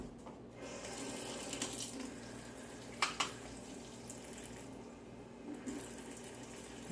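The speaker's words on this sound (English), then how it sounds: "we're going to add 3 more tablespoons of water." Tap water runs steadily for tablespoon measures being added to ravioli dough in a home kitchen, with a continuous hiss and a few small splashes and clinks, no talking.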